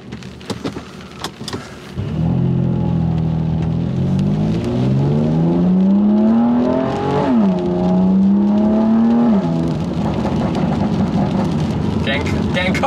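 A rebuilt BMW M2 Competition on its first road test revs hard while driving, the engine note climbing steadily, dipping at a gear change, then rising again, loud and close inside the cabin, with a voice briefly over it.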